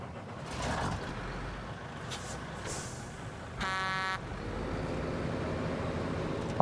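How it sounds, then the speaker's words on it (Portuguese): A heavy truck in the off-road driving game SnowRunner rumbles with a low steady engine drone, broken by a short hiss of air brakes and a brief harsh tonal horn blast partway through. "Muito legal também esse caminhão, tá? Olha o barulho dele, que legal."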